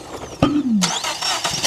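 The engine of a 2010 Mazda CX-9 with a misfire cranks with the gas pedal floored, a short starter whir rising into a brief engine catch and noisy rumble, heard up close.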